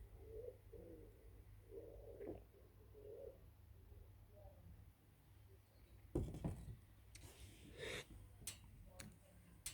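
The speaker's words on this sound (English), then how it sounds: "a lot more birds around here than there was when I first moved in" Soft cooing of pigeons or doves outside in the evening, several faint low hooting phrases in the first half, followed by some nearby rustling and breathing noises.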